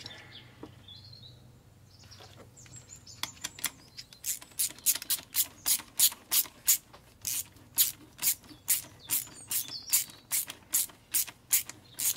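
Ratchet tightening a fuel pressure regulator on a Mercedes engine, a faint fumble of handling first, then a close run of rapid, evenly spaced ratchet clicks for the last eight seconds.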